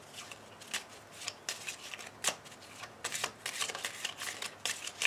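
Oracle cards shuffled for a reading, close papery riffles and flicks in irregular bursts, fairly soft and with no talking.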